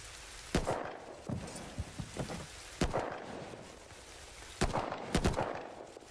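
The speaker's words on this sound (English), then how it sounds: "I just want to get out of this fucking rain." Heavy rain in a video game makes a steady, dense broadband hiss, broken by several sharp, loud cracks that stand out above the downpour.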